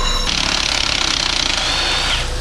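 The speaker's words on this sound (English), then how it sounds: "we're still just welding away here" Welding on a budget overlanding vehicle build, a steady loud crackling buzz that starts after a brief pause and runs nearly unbroken to the end, with no talking.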